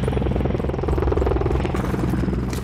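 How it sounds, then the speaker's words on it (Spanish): A helicopter's rotor chop and turbine whine from the Call of Duty video game run continuously and loudly, mixed with dense in-game battle noise throughout. "Helicóptero de vigilancia aliado en camino."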